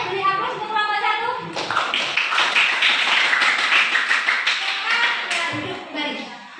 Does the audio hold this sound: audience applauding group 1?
yes